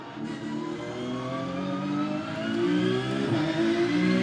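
A Mazda race car's engine in the iRacing simulator revs and climbs steadily, a smooth harmonic whine rising in pitch over a few seconds, close and alone.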